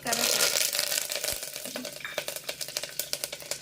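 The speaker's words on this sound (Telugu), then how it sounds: "ఇప్పుడు ఆవాలు చిట్లిపోయినాయి" Mustard seeds spluttering in hot oil in a pan while cooking menthi pappu, a loud frying hiss at first that thins into a run of sharp rapid pops and crackles close by.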